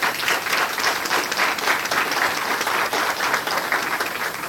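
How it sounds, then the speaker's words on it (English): Audience applause at a Seguin ISD school board meeting, a full, sustained wash of many hands clapping, steady and fairly loud with no talk over it. "Let's give them another round of applause."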